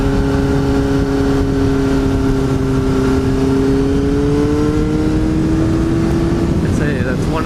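A Yamaha R6 sport motorcycle engine holds a steady, droning tone that climbs slowly in pitch, then a quick rev flick near the end, loud and close with riding wind noise throughout.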